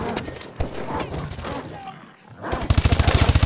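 Suppressing gunfire in the video game Call of Duty: Advanced Warfare, building from scattered loud shots into a rapid, evenly spaced burst of automatic fire near the end.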